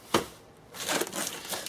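Heavy duty space blanket being handled, giving one sharp crinkle followed by a longer stretch of close, rustling foil crinkling.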